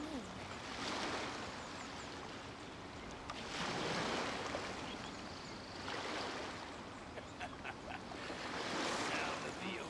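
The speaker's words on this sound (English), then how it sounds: "Sound of the ocean waves." Ocean waves in the Genshin Impact video game roll in steady, rising and falling surges of surf. A faint wind hiss runs underneath through the whole stretch.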